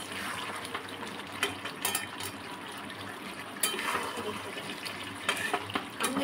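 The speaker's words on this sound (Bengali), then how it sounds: "এবার জলটা পরিমাণ মতো দিয়ে, গরম জল দিয়ে দিচ্ছি মাংসেতে।" Hot water poured into mutton cooking in a pot, a steady gushing and splashing of liquid heard close and fairly quiet, with brief louder surges along the way.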